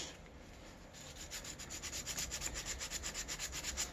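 Rapid, rhythmic back-and-forth scratching of sandpaper rubbing by hand against an alloy bike stem, close-up and fairly quiet, growing steadier over a few seconds.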